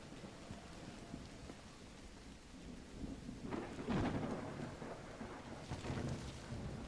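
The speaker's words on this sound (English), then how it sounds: "It is raining cats and dogs." Heavy rain pours steadily in the video game Call of the Elder Gods, a dense hiss of falling water with rumbling thunder swelling through the middle, fairly faint and with no voices.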